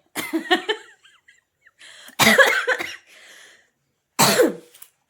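Several loud coughs in quick bursts: a cluster at the start, a harsher fit in the middle, then one more sharp cough near the end, with quiet breaths between.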